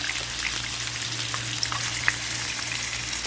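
Ribs steak frying in hot oil, a dense steady sizzle with scattered tiny pops and crackles, close and uninterrupted by speech.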